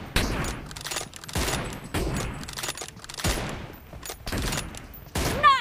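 Gunfire in the mobile battle game PUBG Mobile, a series of loud separate shots and short bursts spaced roughly a second apart.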